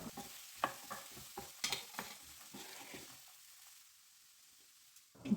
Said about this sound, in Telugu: ముందుగా తరిగి పెట్టుకున్న బీన్స్ ముక్కలను కూడా వేసి కొద్దిసేపు వేయించుకోవాలి